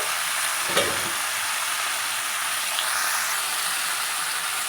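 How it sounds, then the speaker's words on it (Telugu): Chopped gongura leaves and tomato pieces cooking in a pan for a red chilli chutney, a continuous bright hiss and sizzle with a single stir stroke early on, close and even, no voices. "ఇది కలుపుకోవాలండి ఈ విధంగా కలుపుకుంటూ ఉండాలి"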